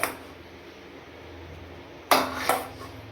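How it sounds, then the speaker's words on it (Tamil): A metal ladle turns prawn biryani in a pot, giving two or three sharp clanks against the pot within a quiet background. "ஒவ்வொரு கரண்டியாக போட்டு கிண்டி எடுத்துடலாம்."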